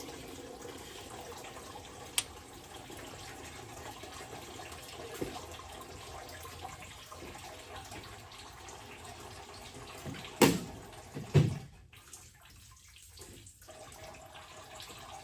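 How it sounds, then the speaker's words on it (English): Coolant drains from the bottom of a Case 770 tractor radiator in a steady, faint trickle of running water, broken by a few louder splashes and clanks near the end. "we drained the bottom of the radiator"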